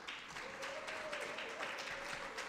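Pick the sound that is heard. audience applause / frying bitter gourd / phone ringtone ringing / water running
audience applause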